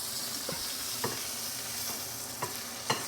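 Mushrooms browning in butter in a pan give off a constant, even sizzle, with about five soft spoon scrapes against the pan at irregular intervals.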